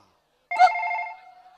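A phone gives a short, sharp electronic ring in an otherwise quiet room, one brief tonal burst that fades quickly.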